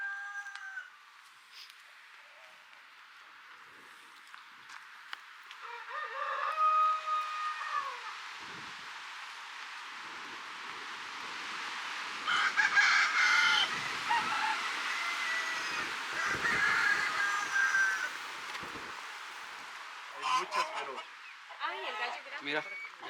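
Chickens, some of them silkies, cluck and squawk inside a barn on a mountainside behind a house in Costa Rica. The calls are scattered and fairly close, strongest in the middle of the stretch, with a soft background hiss.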